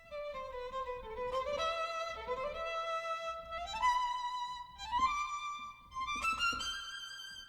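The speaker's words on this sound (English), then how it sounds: "there are the actual immediate bow changes" A bowed virtual violin line moving through quick successive notes, each immediate bow change audible as a brief articulation, played alone at moderate volume.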